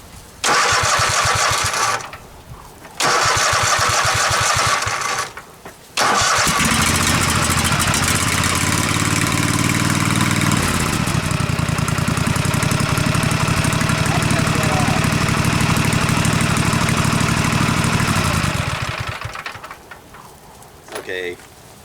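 A Husqvarna Z254 zero-turn mower engine cranks in two short bursts, then catches and runs at a loud steady idle for over ten seconds before cutting out, with a brief final crank.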